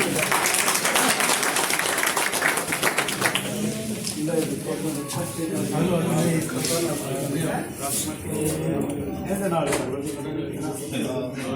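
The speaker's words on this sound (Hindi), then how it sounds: "भाई जोर से एक बार ताली के नाम" An audience at a political gathering breaks into loud clapping that fades into scattered applause, with talk and music-like tones continuing underneath.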